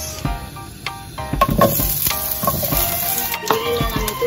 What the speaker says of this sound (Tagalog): Nagisa tayo ng sibuyas